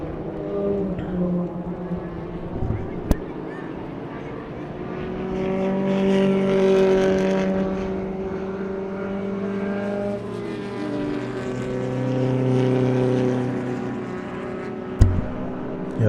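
Race cars at a South African circuit, the 2022 Aldo Scribante Race 3, sweep into the Schaeffler S bend while battling for second place. Several engines drone and rise and fall in pitch, steady and loud, with no talk over them.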